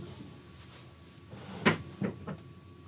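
A drawer slides open and shuts with a couple of short wooden knocks and clatters near the end, fairly quiet over a soft room background.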